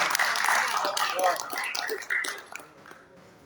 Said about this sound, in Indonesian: Kita berikan aplaus dan tepuk tangan meriah.